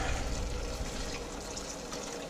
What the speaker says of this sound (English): we take the clam juice and we pour it over the coffee filters, which go through the strainer, which then go through the colander